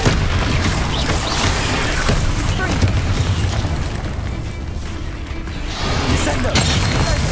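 Confringo fire spells bursting in the Hogwarts Legacy video game, a dense, continuous wash of loud booming blasts and crashing impacts with mechanical clatter, steady throughout with a brief dip before surging again.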